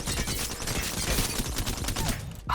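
Alternator submachine gun in Apex Legends firing disruptor rounds, a dense rapid burst of automatic shots that stays loud and close throughout, then cuts off abruptly near the end.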